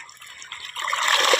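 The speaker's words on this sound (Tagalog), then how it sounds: "Yan na yung tubig natin mga ka-DL." Irrigation water arrives and starts flowing into a corn field, a bright splashing, rushing gush that swells louder toward the end, with no voices.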